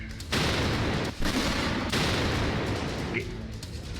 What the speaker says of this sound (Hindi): पोखरण में तोपों, टैंकों और लड़ाकू जहाजों की ललकार